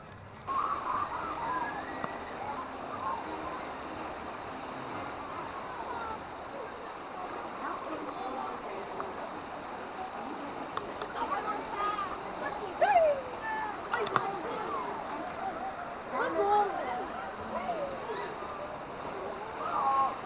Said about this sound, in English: past the river rapids.